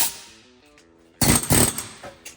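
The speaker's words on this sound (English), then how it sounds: "Luckily though, I do have an air hammer, so we can use air power to hopefully hit them out" An air hammer knocking rusted king pin keys out of a budget project truck's front axle, with sharp, loud bursts of rapid pounding, close up and metallic, after a quieter lead-in.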